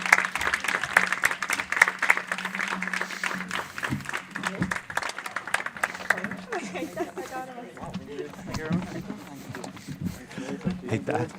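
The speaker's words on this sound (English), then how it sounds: "So please give a big applause." An audience applauds a panel at a green transport discussion event: steady mid-distance clapping from a sizeable crowd that runs through the clip, with a voice and some chatter mixed in at the start.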